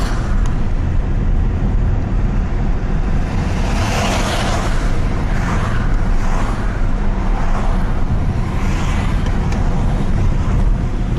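Car driving along a street in downtown Astoria, steady engine and road rumble with wind buffeting, occasional passing traffic swells, continuous and fairly loud, no talk.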